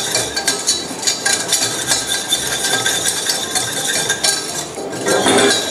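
A spoon scrapes and clinks steadily in a pot as flour is worked into butter for a chocolate soufflé base, continuous light metallic tapping and stirring with no speech.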